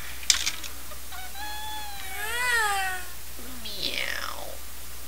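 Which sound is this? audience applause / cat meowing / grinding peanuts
cat meowing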